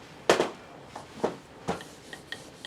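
Sweet pastry dough for a warm chocolate tart is rolled out by a chef to about a quarter inch thick; a handful of soft, separate thumps and rubbing strokes from the rolling pin land irregularly, close and fairly quiet, with no talk.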